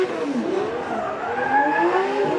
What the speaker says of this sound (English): Going out to scrub, getting some heat into the rear tyres.